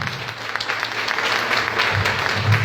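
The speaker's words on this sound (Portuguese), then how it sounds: "Vamos aplaudir Jesus Cristo" A congregation at a Catholic Mass claps steadily, a dense sustained applause filling the whole moment without pause.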